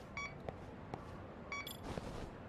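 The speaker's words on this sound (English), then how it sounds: "Is there a reason I'm not getting anything other than just basic beeping?" Basic electronic beeping from the video game Lost Judgment, a few short high tones in two brief clusters over a quiet background hum, faint and without talk.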